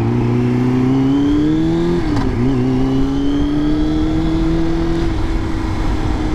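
A Triumph Daytona 600 sport motorcycle engine drones while riding, a loud, close, steady tone that dips briefly as if shifting gears, then climbs and holds high revs amid wind noise.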